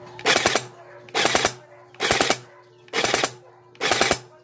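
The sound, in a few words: Bohan AR16 gel blaster toy gun firing in burst mode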